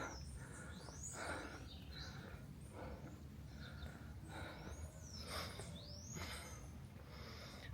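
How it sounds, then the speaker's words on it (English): Faint birdsong drifts from a hill near Fort George above Port of Spain, Trinidad: scattered chirps and rising whistled calls repeat over a soft, steady outdoor background with no talking. "I can hear more and more birds"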